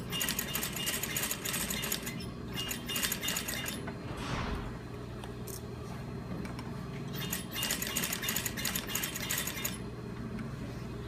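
Sewing machine running in bursts as a mandarin collar is stitched onto a full bodice, with a steady mechanical whir broken by short pauses where the needle stops to turn the fabric; busy room noise throughout.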